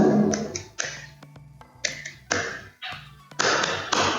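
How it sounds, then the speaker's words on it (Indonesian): Elementary classroom of second graders performing a rhythmic 'tepuk semangat' spirit clap: repeated sharp group claps in patterned bursts and pauses, close and crisp, with no talking. "tepuk semangat baru"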